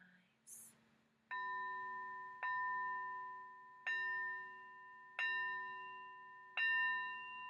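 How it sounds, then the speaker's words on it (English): A small handheld bell rings five times in a slow, even rhythm, each clear tone ringing out and fading before the next strike. The strikes are quiet and close in a calm, still room. "I'm going to ring my beautiful bell here"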